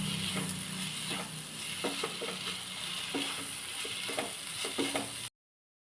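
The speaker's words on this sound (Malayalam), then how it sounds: "നമുക്ക് ഈ ചോറ് ആഡ് ചെയ്യാം. നല്ലോണം ഒന്ന് ഇളക്കി കൊടുക്കാം." Leftover cooked rice stirred in a hot frying pan for an onion rice dish, a soft steady sizzle broken by repeated scraping strokes of a spatula, close and fairly quiet, cutting off abruptly near the end.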